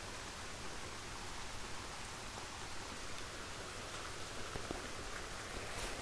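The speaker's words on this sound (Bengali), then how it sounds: "এখন বৃষ্টি পড়তেছে, দেখতেই পাচ্ছেন এই যে বৃষ্টি পড়তেছে" Steady rain falls as a dense, even hiss with no breaks, continuous and moderately distant, no voices over it.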